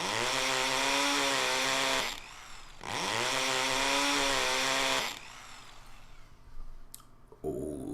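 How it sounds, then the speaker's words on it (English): A chainsaw sound effect in The Fruit of Grisaia visual novel roars loud and steady in two long revving bursts with a brief dip between, then gives way to a thinner, whirring drill-like buzz with clicks. "that sounded like a chainsaw. Well, partly. The last part sounded like a drill."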